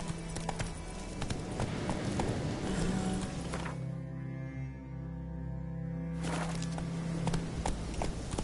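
Roach the horse gallops in The Witcher 3, rhythmic hoofbeats on ground with a deep droning tone swelling midway, steady and fairly close throughout.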